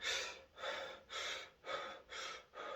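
Shallow chest breathing with the shoulders rising, demonstrated in about five soft, rhythmic breaths close to the microphone, each a quiet airy rush separated by short pauses.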